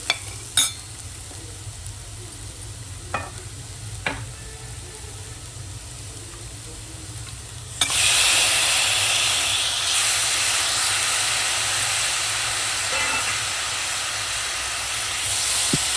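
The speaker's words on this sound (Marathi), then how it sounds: "आता ह्याच्यामध्ये आपण मटण टाकूया." Mutton dropped into a hot pan for a Sunday mutton dalcha, with a few light clanks of a utensil before a loud, steady close sizzle and hiss takes over and holds to the end.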